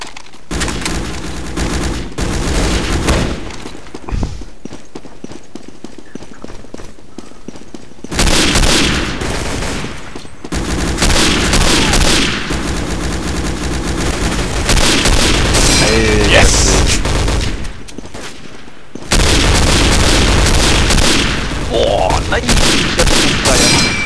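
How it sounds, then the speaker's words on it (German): Heavy grenade blasts and bursts of gunfire in the World War II shooter Day of Defeat, loud and continuous, with dense booming volleys that pause briefly before surging again. "Ich schick dir noch eine Granate hier rein."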